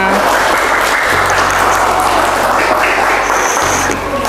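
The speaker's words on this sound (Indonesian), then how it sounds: "Tepuk tangan." Children at a Quran school, TPQ At Taubah in Kandeman, clap together in a loud, dense burst of applause after a correct quiz answer, lasting a few seconds.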